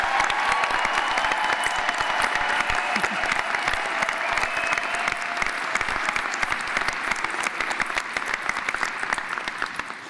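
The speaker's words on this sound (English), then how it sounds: "please take a moment just to let us applaud you" A large crowd at a university graduation ceremony applauds the graduates steadily for about ten seconds, dense continuous clapping that fades slightly at the end.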